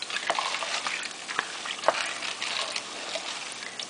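Pinto beans with pork sausage, cayenne, cumin and seasoning are stirred in a pot. The stirring makes a soft, wet scraping with a faint bubbling sizzle and small clicks of a spoon, quiet and close.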